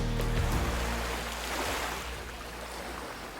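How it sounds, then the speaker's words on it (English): Ocean waves washing onto soft Central American sands at night, a steady broad wash of surf that fills the whole stretch with a gentle swell and ebb, with no voices. "the sound of the ocean"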